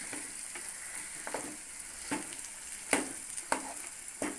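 Boiled eggs are broken up and stirred into a frying masala for egg thokku, a steady close sizzle with soft stirring scrapes and a few light knocks of the spoon.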